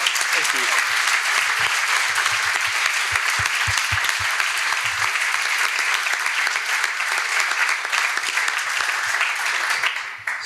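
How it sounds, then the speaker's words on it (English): Sustained applause from a conference audience after a panel discussion on the future of Scala, steady and dense for about ten seconds with a few low murmurs early on, tapering off at the end. "let's also have a round of applause for John."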